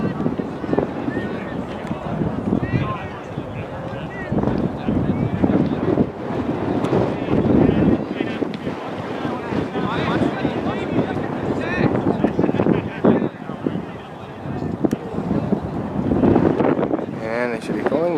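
Heavy wind buffets the microphone at an outdoor ultimate frisbee regional tournament game, a constant loud rumbling roar with gusts, while a commentator talks over it.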